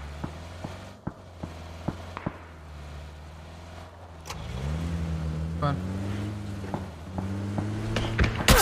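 A car engine in PUBG drones steadily through the clip, rising and shifting in pitch as the vehicle moves and revs, with sharp gunshot-like clicks early on and players talking over it.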